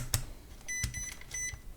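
A multimeter in diode test mode gives short high electronic beeps, two or three brief tones over faint clicks and handling, quiet and close.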